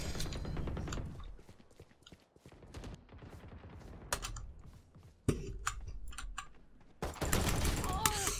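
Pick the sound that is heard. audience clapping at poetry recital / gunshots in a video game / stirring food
gunshots in a video game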